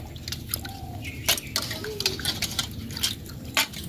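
Water dripping and splashing while a whole hilsa fish is rinsed clean, with irregular close drips and small splashes over a low background hum.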